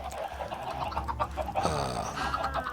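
Chickens in the game Minecraft give a few short, soft clucks, close by and quiet, with no talking over them.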